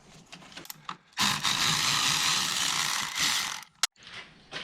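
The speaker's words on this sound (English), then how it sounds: "They are a Torx, I believe T15 bit, and you'll need to use an extended bit because they're fairly recessed down." Recessed Torx T15 screws being turned out with an extended bit on a Mazda 3 intake runner repair, a close, steady ratcheting whir lasting about two seconds between quieter handling clicks.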